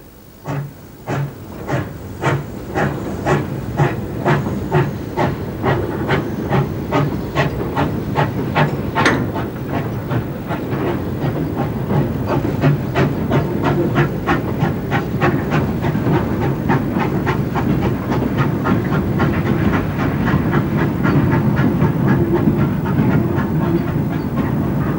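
A GWR pannier tank steam locomotive hauls a freight train on the Dart Valley Railway, giving loud, steady exhaust beats that quicken and blur into a continuous rhythmic chuffing over rolling wheel noise.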